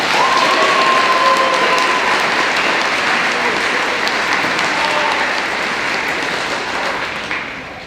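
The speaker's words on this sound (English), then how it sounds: "can we have a round of applause for the wonderful faculty here at Northbridge" A crowd at a high school senior night claps and cheers for the faculty, loud sustained applause with a whistle near the start that gradually tapers off.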